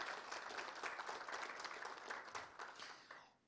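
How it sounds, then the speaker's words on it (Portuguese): Audience applause for a professor at a leadership seminar, a brisk crowd of hands clapping, quiet overall, then fading out in the final half second. "Salva de palmas, professor Max Lima."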